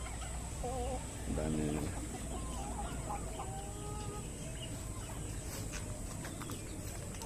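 Three-month-old Rhode Island Red farm birds cluck and call in short bursts close by, over a steady outdoor hum; someone speaks briefly among them.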